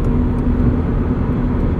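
A 2022 Subaru BRZ with a four-cylinder engine and a 4.3 rear differential cruises in 6th gear, producing a loud, steady low engine drone mixed with road and wind noise inside the cabin.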